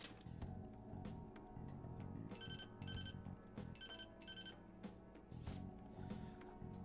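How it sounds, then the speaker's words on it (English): A phone rings in the video game Persona 5 Royal, a repeating electronic ringtone with bright chiming bursts in a steady rhythm over soft game background music. "Oh, there's that social service call I was waiting for."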